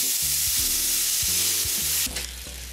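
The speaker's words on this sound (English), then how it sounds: "So I'm gonna deglaze that with a little bit of bourbon" A hot pan deglazed with bourbon while cooking with a New Orleans spice blend, a loud steady hiss and sizzle under stirring scrapes, easing slightly near the end.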